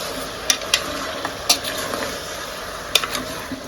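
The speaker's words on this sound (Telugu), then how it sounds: "ఉప్పు వేసుకొని బాగా కలుపుకోవాలి" A utensil scrapes and clinks against a pan in several sharp strokes as mutton is stirred with salt, sizzling steadily underneath, close up.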